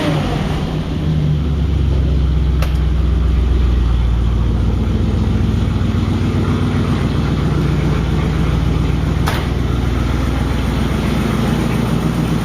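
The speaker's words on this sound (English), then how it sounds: "Motor's smooth as can be." A classic car's engine idles smoothly and steadily at close range, a low, even rumble with no revving for the whole stretch.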